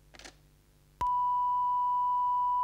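A telephone answering machine sounds its record beep: a sharp click, then a single long, steady electronic tone that continues to the end, preceded by a brief faint rustle.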